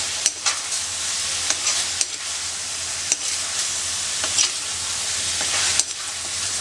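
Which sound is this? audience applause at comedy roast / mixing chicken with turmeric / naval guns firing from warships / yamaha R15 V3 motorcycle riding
mixing chicken with turmeric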